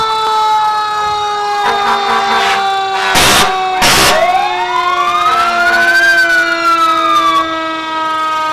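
Mayville Ladder 251 fire engine with a 109-foot ladder at a Fourth of July parade in Chautauqua County, its siren winding up and down loudly and close, broken by two short blasts of the air horn.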